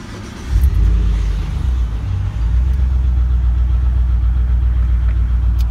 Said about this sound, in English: You can probably already hear the ticking.